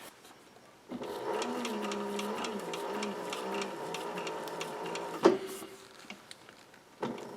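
A triple-feed sewing machine top-stitches a fabric newsboy cap, a steady fast mechanical whir and tick of the needle running for several seconds with brief pauses and a sharp clack near the end.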